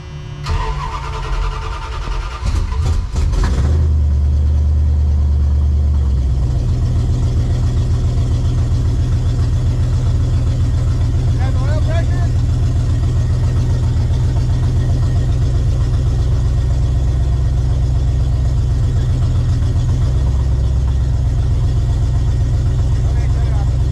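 A Dodge Ramcharger engine cranks briefly, catches and revs, then settles into a loud, steady close-up idle that holds to the end, with voices speaking over it.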